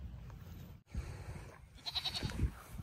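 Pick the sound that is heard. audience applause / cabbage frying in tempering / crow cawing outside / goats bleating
goats bleating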